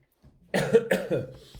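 Two sharp coughs in quick succession, close and fairly loud, followed by a fainter throaty rasp.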